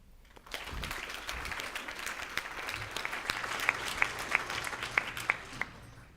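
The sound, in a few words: audience applause for parents and teachers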